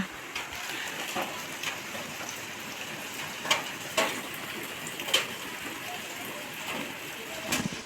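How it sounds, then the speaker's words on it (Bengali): Steady rain patters in the background in a village, with a few sharper drips and taps standing out now and then. "সারাদিন বৃষ্টি হয়েই যাচ্ছে"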